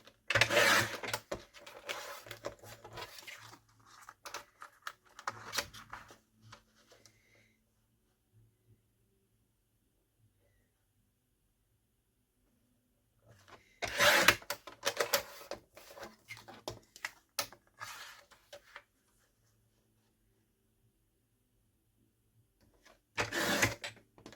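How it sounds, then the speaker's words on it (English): A paper trimmer slicing cardstock for handmade Mother's Day cards: three short bursts of close blade scraping and clicking, separated by long quiet gaps with a faint background hum. "I would not use this trimmer. It doesn't really do those finer. I mean, it will cut very fine, little tiny strips."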